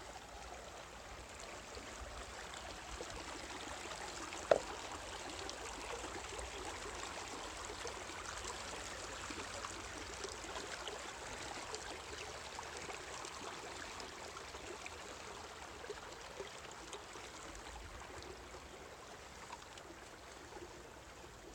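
A river being crossed on a hike, a constant soft rushing of flowing water with one small click, steady and moderately distant throughout.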